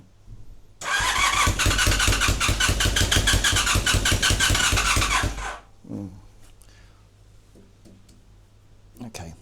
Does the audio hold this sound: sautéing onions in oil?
no